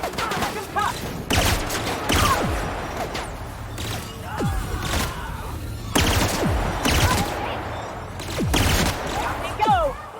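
Gunfire in The Outer Worlds: several sharp bursts of shots recur through the clip, loud and close, with a voice talking over them.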